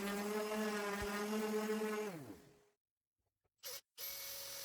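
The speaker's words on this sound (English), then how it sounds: "I think this is the back section I'm sanding at the moment" A power sander works salvaged wooden hotel skirting board pieces, whirring with a steady tonal hum before spinning down to silence, followed by two short bursts of noise.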